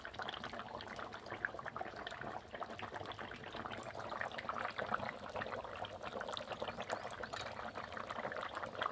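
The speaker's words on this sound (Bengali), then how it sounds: "এই যে তেঁতুলটা এবার আমি দিয়ে দিচ্ছি।" Soaked, squeezed tamarind water poured into a pot of boiled food, a steady wet splashing and trickling that holds at an even level for the whole stretch, close by and without talk.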